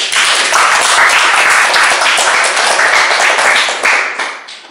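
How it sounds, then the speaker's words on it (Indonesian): Loud, close clapping from a group of people, brisk and continuous for nearly five seconds before tapering off at the end. "Wah, tepuk tangan dulu."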